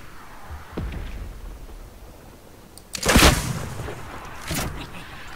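Gunfire in the video game Fortnite: a few sharp, fairly faint shots and bursts, one near the start, a louder cluster in the middle and another near the end, over quiet background.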